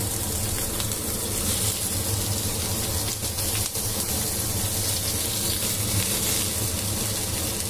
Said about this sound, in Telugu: ఒక చుక్క ఆయిల్ వేసుకుని కట్ చేసి పెట్టుకున్న ఉల్లిపాయలు వేసేసుకుందాం